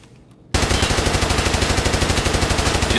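Rapid automatic gunfire in a video game bursts in abruptly after a half-second of near silence and continues as a loud, steady stream of evenly spaced shots.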